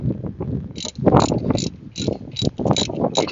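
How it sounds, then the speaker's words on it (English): Ratchet tightening a 14 millimeter bolt under a Kia Rio alternator, close rhythmic clicking strokes in quick repeated bursts with brief pauses, no talk. "we're going to properly tighten the 14 millimeter underneath"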